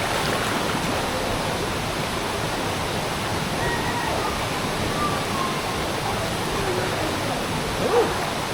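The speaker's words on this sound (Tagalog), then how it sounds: "Welcome to the falls." A hidden waterfall in Quezon Province rushes steadily, a broad even roar of falling water that stays constant and close, with a brief faint voice near the end.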